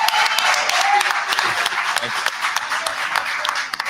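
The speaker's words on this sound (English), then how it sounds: "So I'm going to ask if everybody can give Keith Freeman a round of applause at this time." A round of applause for Keith Freeman at a public meeting, dense steady clapping from a crowd with voices mixed in.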